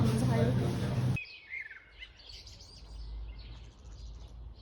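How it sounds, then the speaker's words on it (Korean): Birds chirping and singing outdoors on a walk home from a library in Berlin, light high tweets scattered over soft ambient noise after a brief burst of louder sound at the start. "새소리가 엄청 잘 들리지 않나요?"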